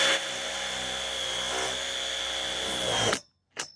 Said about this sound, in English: Now we're just using this to drill a pilot hole.